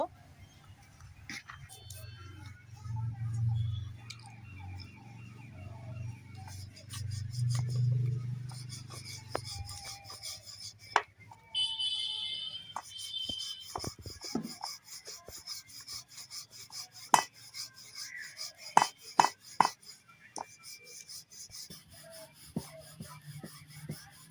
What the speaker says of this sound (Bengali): আমি হচ্ছে লেচি কাটে নিব